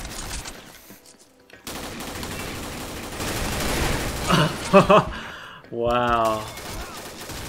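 Gunfire in the online shooter Combat Arms, with a few sharp shots and a short burst around the middle, mixed with game noise and players talking over voice chat.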